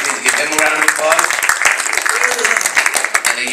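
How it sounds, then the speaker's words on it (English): Audience applause at a Bronx clergy roundtable, close, uneven clapping mixed with murmuring voices and a speaker talking over it. "Please give him a round of applause."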